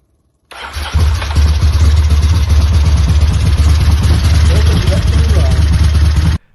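Vintage Ducati 88 motorcycle engine running after a sudden start, a loud steady low rumble with rapid firing pulses held at idle, with a voice heard over it.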